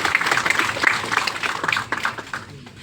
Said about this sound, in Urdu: زوردار تالیاں پروفیسر افشار عالم۔